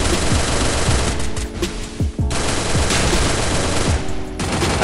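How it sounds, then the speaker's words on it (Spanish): Continuous rapid gunfire from Free Fire during a battle royale ranked match, with loud, dense automatic bursts and only brief gaps between volleys. "Y si no hubiera tenido a Xayne y a Chani me hubieran matado los que me dispararon desde el puente"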